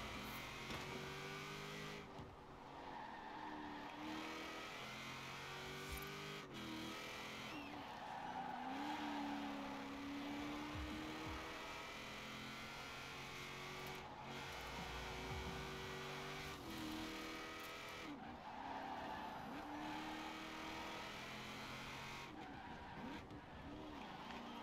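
A car races around a mixed-surface track in Forza Horizon 4, an Atomic Punk A-Class build with a swapped engine, its engine revving and shifting steadily with repeated tire skids and squeals across the whole run, loud and continuous with no talk.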